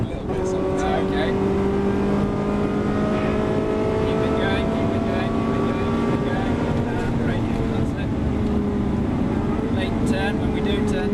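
Ferrari car engine at full throttle on the Silverstone circuit, a steady loud droning tone with rising harmonics and wind buffeting throughout, voices talking over it.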